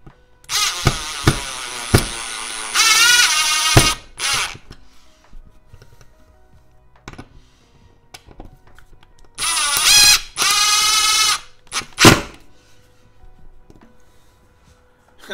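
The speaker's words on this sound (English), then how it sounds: "Get our drill." Two bursts of a power drill whirring as it drives screws for mounting garage storage hooks, each a few seconds long, close and loud, separated by quiet clicks and handling.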